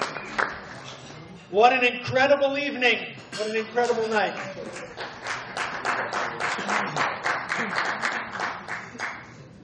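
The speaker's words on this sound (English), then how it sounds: "Round of applause, please." Applause from an evening synagogue sisterhood gathering patters steadily beneath a speaker's amplified voice, the clapping dense and moderately loud through most of the clip.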